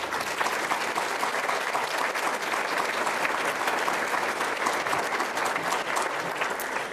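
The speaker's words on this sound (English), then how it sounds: "Please join together now in applauding the contributions of all these supporters." Banquet audience applauding sponsors, steady loud clapping from a large crowd in a hall that continues evenly throughout.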